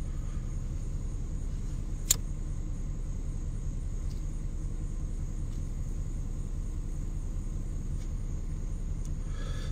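A car engine rumbles steadily at low pitch, a constant close drone with one brief sharp click partway through and no voices.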